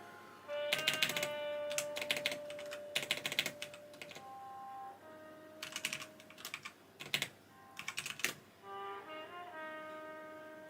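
Bursts of typing on a computer keyboard, clusters of rapid key clicks separated by pauses, close and fairly quiet, with soft sustained background tones and no talking.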